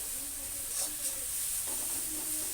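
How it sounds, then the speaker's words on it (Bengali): Garlic, chili and dried amudi fish paste sautéing in a pan, a steady soft sizzle and hiss with faint stirring scrapes throughout, fairly quiet and close. "ওটাই এখন কষিয়ে নেব সুন্দর করে"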